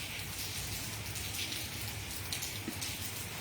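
Rain falls steadily outdoors, a continuous even hiss of drops with a few brighter spatters on surfaces, fairly close and moderately quiet, with no voices.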